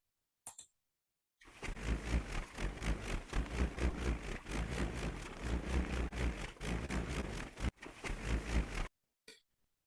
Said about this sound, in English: it is just a powerful whirring sound